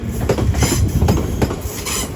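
Class 350 electric multiple unit 350376 passing at Crewe station, loud and close, with a rhythmic clickety-clack of wheels over rail joints and a brief metallic squeal above the rumble.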